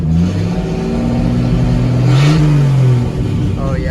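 An old Chevy truck engine idles near 1,000 rpm while not fully warmed up, then revs up and settles back down, its rumble loud and close with someone talking over it.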